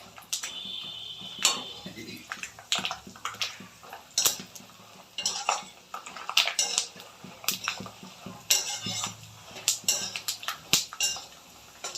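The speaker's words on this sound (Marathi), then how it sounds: "शेंगदाणे भाजून घेऊया." Peanuts roasting in a pan for sabudana chivda, stirred with a utensil that scrapes and clinks repeatedly against the metal in irregular bursts, with a faint background voice now and then.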